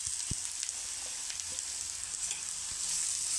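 Grated bitter gourd frying in a pan: a soft, steady hiss of sizzling carries throughout, with a few light taps and scrapes of stirring near the start, quiet and without speech.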